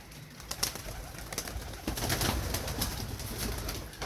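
Pigeon chicks with tied wings perched on a rooftop, cooing softly amid steady outdoor background noise, with a few faint flutters and calls scattered across the moment.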